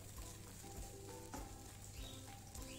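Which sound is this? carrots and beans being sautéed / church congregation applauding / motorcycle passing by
carrots and beans being sautéed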